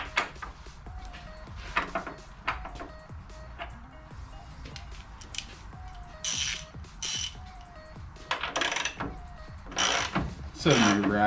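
A ratchet tightens the bolts of a Honda EG subframe during the install, giving close bursts of rapid pawl clicking mixed with clunks of tools and parts, growing louder toward the end.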